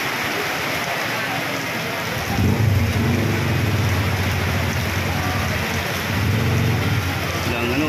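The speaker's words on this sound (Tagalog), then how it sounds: "Lakas ng ulan." Steady heavy rainfall hisses across the whole clip, swelling louder partway through, with faint voices talking underneath.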